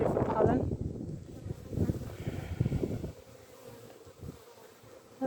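Honey bees buzz around backyard beehives on a breezy day, a continuous droning hum close to the microphone mixed with gusty wind noise that fades toward the end.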